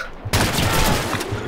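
Sudden burst of dense gunfire in Call of Duty 2, starting abruptly after a quiet moment and staying loud and continuous to the end.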